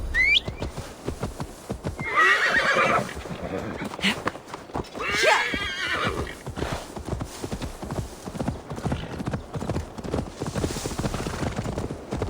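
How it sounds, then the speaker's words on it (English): Repeated hoof clip-clops with a couple of loud horse whinnies, set against the Assassin's Creed: Valhalla game soundtrack and occasional voices. "Now to deliver Magni his horse."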